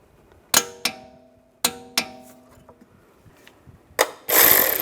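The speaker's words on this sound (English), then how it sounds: "Now I'm going to torque this bolt to 74 foot-pounds." Ratcheting clicks from a torque wrench tightening a bolt on a 2004-2010 BMW X3 strut mount, several sharp metallic clicks spaced apart, followed by a loud hissing burst at the end.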